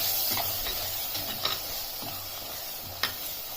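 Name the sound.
stirring fish curry masala with turmeric in mud pot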